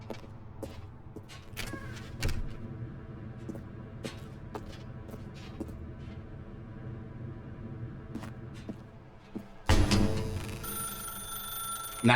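A telephone rings in The Stanley Parable video game, a bright bell pattern repeating over a low ambient game drone, with a louder burst of sound near the end.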